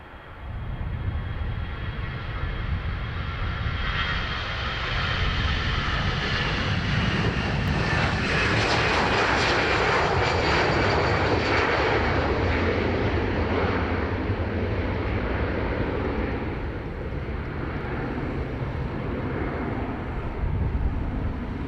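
An airliner at Dublin Airport thunders past on a long, steady engine roar, with a rising whine that swells toward the middle and slowly fades, and no voices over it.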